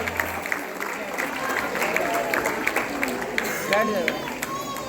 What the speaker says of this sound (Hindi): तो सभी के लिए जोरदार तालियां।